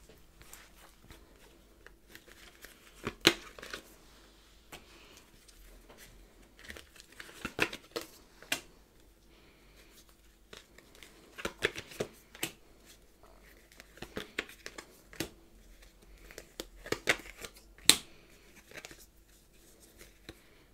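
Tarot cards handled and shuffled on a table during a reading, giving soft papery crinkles, riffles and scattered taps that come in irregular bursts, fairly quiet, with no talking.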